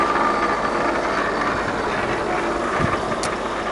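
A Starrag universal milling machine runs with a steady, loud mechanical drone and rumble that holds constant throughout, with a brief clank near the end.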